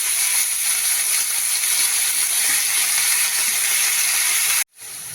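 Hyacinth bean pods go into a hot pan with turmeric over a lowered gas flame. A steady, bright, close sizzling hiss continues for several seconds and then briefly drops away.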